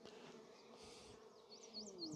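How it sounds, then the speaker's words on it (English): Honey bees buzz around an open hive during queen grafting work, a soft, steady hum with a few individual bees whining close by as they fly past, faint overall. "Bees everywhere."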